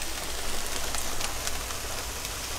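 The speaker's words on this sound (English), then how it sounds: "the rain is still here" Steady rain patters on a small sailboat during a storm's aftermath, a continuous close hiss with scattered individual drops striking the deck and cabin throughout.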